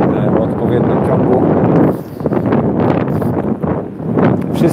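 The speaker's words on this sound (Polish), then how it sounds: "bo jest silny wiatr" Strong wind at Ainsdale Beach batters the microphone in a continuous heavy rumble with gusty swells, while someone talks underneath it.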